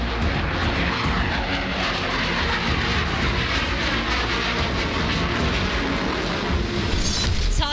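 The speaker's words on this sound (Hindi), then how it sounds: "जापान में गरजेंगे भारत के लड़ाकू विमान।" Indian Air Force Sukhoi-30 fighter jets roar overhead in a loud, continuous, dense engine rush that holds steady throughout with no voices.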